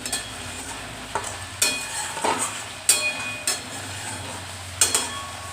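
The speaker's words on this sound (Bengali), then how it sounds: "দিয়ে আবারও ভালো করে নাড়িয়ে চাড়িয়ে ভালো করে মশলাটাকে কষাচ্ছি" Masala is stirred and fried in a pan, with a low sizzle under repeated metallic scrapes and knocks of a spoon against the pan, close and irregular, and nobody speaking.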